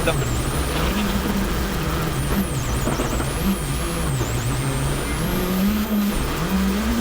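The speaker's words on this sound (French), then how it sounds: "Laurent Pellier et Kevin Bronner ne ménagent pas pour autant leurs efforts avec la Skoda Fabia RS Rally 2 du team 2C Yako RS" Skoda Fabia RS Rally 2 rally car on a gravel special stage in France, its engine rising and falling in pitch as it revs and accelerates loudly, with a co-driver reading pace notes over it.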